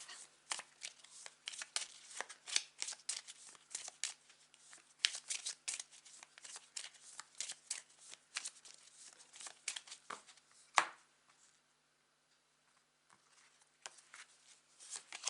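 Tarot cards being shuffled and drawn for a monthly reading: a long run of quick, crisp riffling and slapping flicks, close and fairly quiet, then one sharp card snap near the end before near silence.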